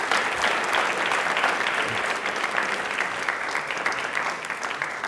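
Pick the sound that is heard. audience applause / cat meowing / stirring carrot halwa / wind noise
audience applause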